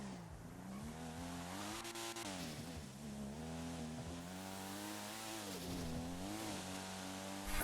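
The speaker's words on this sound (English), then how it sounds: "I hate the way this car sounds." A car engine revs up and down repeatedly, its pitch rising and falling in waves, loud and close with no talking.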